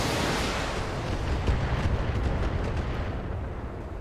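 Heavy, continuous rumbling blasts of mech weapons fire and explosions in the BattleTech video game, a dense low roar that swells slightly midway, with no talking.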